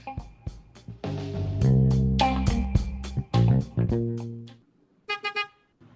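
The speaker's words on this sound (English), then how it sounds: "Add sound effects from outside sources and upload them into Anchor, just like the car horn you just heard" Car horn sound effect honking in a series of short and sustained blasts, loud and close, with several brief toots in quick succession near the end.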